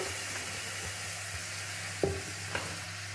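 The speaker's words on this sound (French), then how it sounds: "je mets les pommes dans le beurre qui est un petit peu moussant là" Apples frying in lightly foaming butter with a little sugar in a hot pan, a quiet steady sizzle with a couple of brief sharp clicks from a utensil against the pan.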